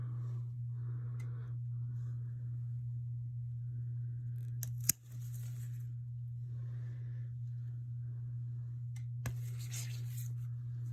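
Scissors snipping through a tall syngonium stem, two sharp clicks several seconds apart over a steady low hum, close and fairly quiet.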